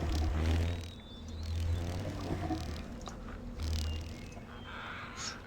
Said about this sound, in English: And that's the beetle sound.